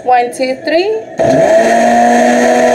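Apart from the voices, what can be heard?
blender blending tomatillo salsa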